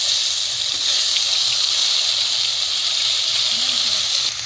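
Onion and garlic paste sizzles in hot oil with a dense, bright, steady hiss, close and loud throughout, with a brief voice faintly under it.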